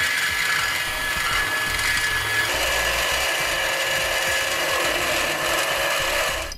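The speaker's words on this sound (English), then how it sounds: "I'm going to come back with a drill and a carbide bit" Steady, continuous power drill with a carbide bit grinding out a metal mounting plate for a ComeUp Cub 2s ATV winch, a loud abrasive whine with no break and no talking.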